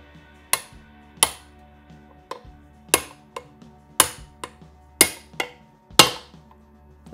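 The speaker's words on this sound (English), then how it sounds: "we're gonna use this socket to drive it home" Hammer blows on a socket driving a part home on a Triumph 650 motorcycle engine, about eight sharp metallic strikes in an uneven rhythm, some louder than others, close and alone.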